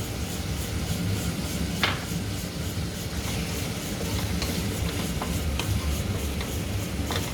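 Tomatoes and onions cook in a pan for a Chettinad-style okra dish, a continuous low sizzle with occasional scraping taps from stirring, steady and close.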